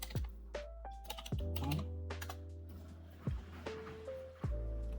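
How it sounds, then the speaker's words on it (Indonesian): Command typing on a computer keyboard: quiet, close clicks of keys in short irregular bursts, separated by a few sharper single strokes and brief pauses, with faint system beeps or tones in the background. "kita bisa menggunakan cmd, untuk kita ketikkan"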